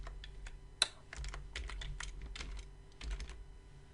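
Fingers typing a web address on a computer keyboard, a quick irregular run of close, quiet key clicks with one sharper tap early on, no voices.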